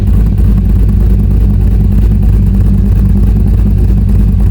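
A loud Corvette C5 V8 engine rumbles steadily, a deep continuous idle close to the microphone with slight revving swells and no voices.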